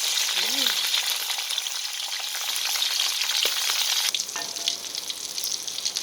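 Loud, steady sizzling of tomatoes frying in hot oil, a continuous crackle with occasional spatters and a brief shift in tone partway through.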